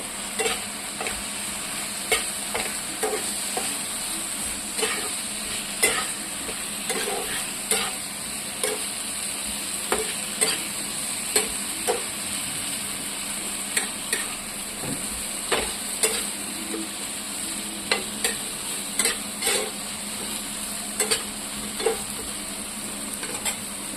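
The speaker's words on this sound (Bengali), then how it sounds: "বেগুনগুলো ভালো করে একটু কষতে দিয়ে দেবো" Brinjal pieces are stirred and sautéed with spices in a pan for a thin fish curry. A spatula scrapes the pan rhythmically and repeatedly over a constant loud sizzle, close up, with no voices.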